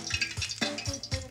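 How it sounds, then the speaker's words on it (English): Small battered flounder pieces dropped into hot oil, a close, moderately quiet sizzle with five or six soft thuds and stirring clinks at a loose, uneven rhythm, no talking. "Let the excess drip off and into the hot oil we go."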